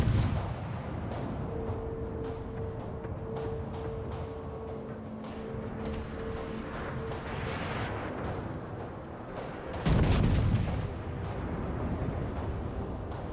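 Battleship main guns boom during a naval video game battle around a Scharnhorst, heavy artillery fire rumbling under constant game noise with one big loud blast near the end.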